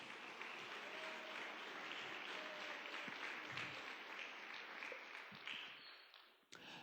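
A church congregation applauds in praise, a steady, fairly distant wash of clapping that carries on for several seconds before fading away.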